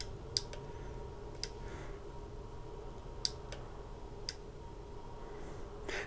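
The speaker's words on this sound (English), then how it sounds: "Sorry, that's the sound of the trigger." A flight controller trigger clicks faintly and sharply about six times at uneven intervals over a quiet, steady background hum.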